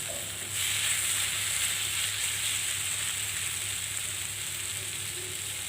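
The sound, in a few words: roasting tol chana (chickpeas) in a pan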